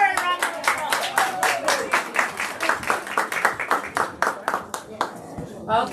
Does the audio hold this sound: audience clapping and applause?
yes